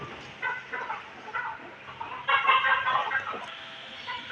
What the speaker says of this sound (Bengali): এই যে দেখেন মুরগিগুলার কি সুন্দর।